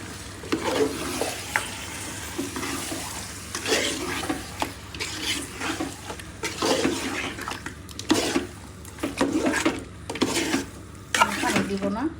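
Deshi chicken pieces going into a pan of sautéing tomato masala with new potatoes, frying and sizzling while a utensil stirs and scrapes in uneven bursts, close and fairly loud, with no talk.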